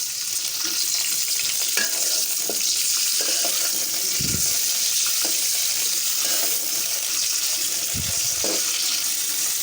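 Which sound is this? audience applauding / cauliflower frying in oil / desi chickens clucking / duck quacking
cauliflower frying in oil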